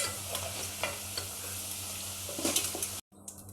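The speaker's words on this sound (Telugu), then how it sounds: "ఇదిగోండి అల్లం కూడా దోరగా ఏగుతుంది చూసారా" Ginger roasting with cumin and coriander seeds in a pan for allam pachadi, a steady close sizzle with scraping stirs throughout, cutting out abruptly near the end before a faint rustle returns.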